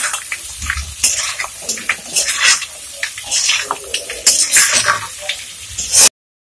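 Crab pieces frying with potatoes and spices in a pan for an Assamese crab masala curry, giving an irregular hiss and sizzle broken by scraping, stirring bursts, fairly close and loud.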